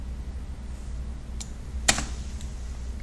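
A computer keyboard gives a couple of quiet key clicks, one sharper press standing out, over a low steady room hum with no talking.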